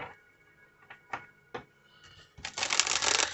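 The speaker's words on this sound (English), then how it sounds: "they want me to shuffle" Tarot cards being shuffled by hand during a pick-a-card reading: a few separate soft taps and riffles, then a dense, sustained papery riffle building toward the end, close and fairly quiet with no talking.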